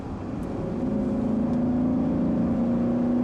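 A 2017 Nissan Armada engine accelerates on the road, heard from inside. A low, quiet drone climbs in pitch after the first second and holds a steady rising hum with no voices.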